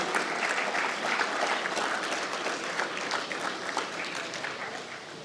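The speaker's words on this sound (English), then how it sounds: "And you can clap for yourself." Veterinary students applaud at a World Veterinary Day celebration in a college hall, a dense, sustained round of clapping from a large crowd that holds steady and tapers slightly toward the end.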